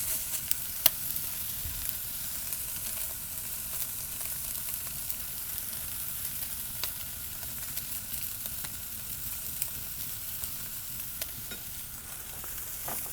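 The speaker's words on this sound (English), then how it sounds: "the octopus is already cooked, so we just want to kind of char it" Cooked octopus topped with romesco sauce charring on a hot grill, giving a steady, even sizzle and crackle with faint pops throughout, fairly quiet and with no voices.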